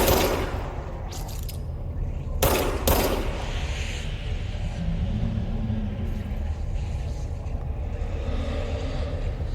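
Gunfire in the action video game Control: a dense, continuous roar of rapid shots and rumbling under a few sharp bursts, loud and sustained throughout.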